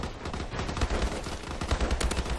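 Automatic fire from an HBER rifle in the video game Call of Duty: Advanced Warfare, a dense, continuous burst of rapid gunshots with deep low thumps, loud and sustained throughout.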